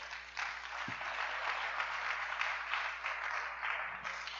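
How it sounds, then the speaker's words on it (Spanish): A church congregation claps in a continuous, moderately loud patter of applause with a low hum underneath. "Dele otro aplauso al Rey"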